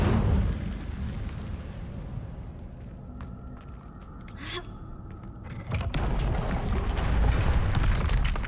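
Incendio fire spell cast in Hogwarts Legacy on PS5: a rumbling burst of flame swells mid-clip and then breaks into a loud, sustained roaring blaze that fills the final seconds, with no talking.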